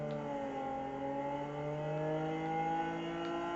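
Car engine in Cyberpunk 2077 drones steadily with rising harmonic tones, revving gradually higher as the vehicle accelerates, a continuous mid-level hum with no talk.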